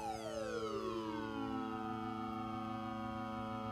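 A Microkorg synthesizer plays a 1980s-style sync oscillator patch: a single sustained tone whose bright, sweeping harmonics glide downward and settle, unsynchronized oscillators beating against each other, loud and alone with no talking.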